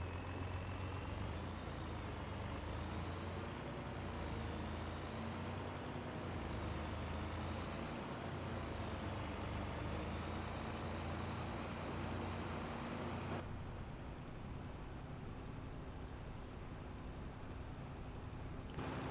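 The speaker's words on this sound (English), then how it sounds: "You can hear the turbo in it." A turbocharged truck engine from a video game's Platinum Expansion drones steadily and loudly with a wavering high turbo whine over the low rumble, without a break.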